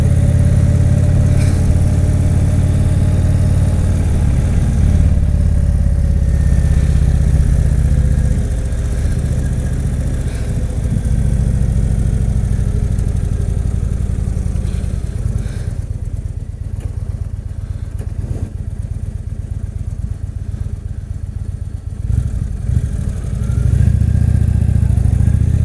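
A motorcycle engine runs steadily at speed during a ride, a loud, close, continuous drone with rising and falling revs and no talk.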